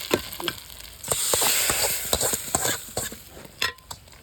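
Upma fries in a pan on the stove while being stirred, a steady close sizzle with repeated scraping strokes of the spoon against the pan.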